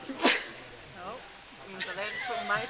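A single sharp sneeze bursts out near the start, followed by someone talking casually in Dutch over a quiet indoor background.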